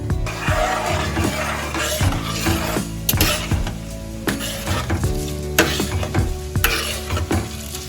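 Urad dal, chana dal, cumin and dried red chillies frying in hot oil sizzle loudly and continuously, while a metal spoon clinks and scrapes against the pan in frequent, uneven strokes.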